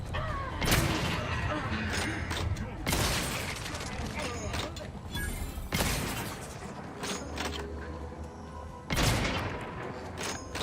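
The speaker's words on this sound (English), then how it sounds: "who's shooting at me?" Gunfire in the sci-fi shooter The Outer Worlds 2, with repeated bursts and loud booming shots across the scene, heavy near reports at the start, middle and end over a constant rumble of combat, with talk over the top.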